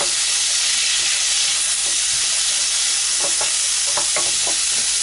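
Vegetables for fiesta rice sautéing in a hot pan, a loud continuous sizzle and hiss with scattered stirring scrapes and clicks in the latter half.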